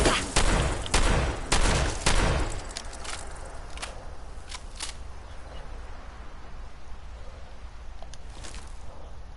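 Shotgun blasts in the video game Fallout, four loud booming shots in quick succession followed by sparse sharp cracks and a lingering low rumble fading out.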